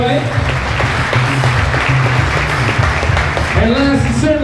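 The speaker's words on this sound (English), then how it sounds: "let's give them a round of applause anyway" Crowd applause at a Walmart Supercenter grand opening in Lee's Summit, Missouri: steady, dense clapping fills the whole stretch at a strong level, with no break.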